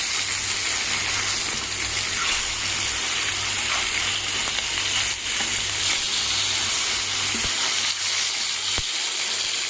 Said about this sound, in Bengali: এভাবে ওই পিঠে লাল করে ভেজে নিব।